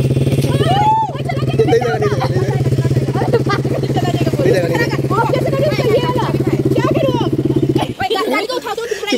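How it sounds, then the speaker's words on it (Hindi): A KTM motorcycle engine runs with a steady, close rumble on a street in India, and people, including a child, talk over it throughout. "मेरे को स्टार्ट करना है बाइक"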